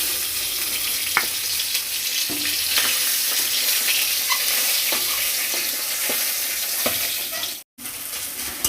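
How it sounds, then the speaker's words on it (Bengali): A ground paste of ginger, cumin, onion, garlic and green chilli sautés in a pan with a steady close sizzle, broken by scattered clicks and scrapes of stirring and one brief cut to silence near the end. "এবার মশলাটা আমার কষা হয়ে গেছে"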